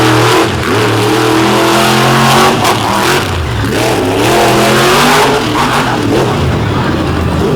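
A mega truck at a Monsters 'N' Megas racing event at West Leb revs its engine hard at launch, loud and sustained with rising pitch sweeps, under a commentator's voice over the track.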